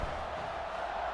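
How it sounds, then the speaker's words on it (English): A stadium crowd of fans roars and cheers continuously in EA Sports College Football 26, a dense, loud wall of sound with no breaks. "these fans, they get something to cheer about with that first offensive possession."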